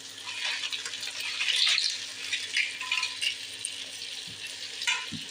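Crab claws frying in a pan for a spicy-sour crab curry, a soft, steady sizzle with occasional stirring scrapes and a couple of low knocks near the end.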